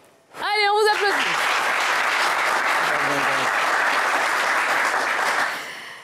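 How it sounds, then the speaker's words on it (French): Audience applause on a French television game show, starting after a brief musical sting and holding loud and steady for several seconds before tapering off at the end. "Allez, on vous applaudit."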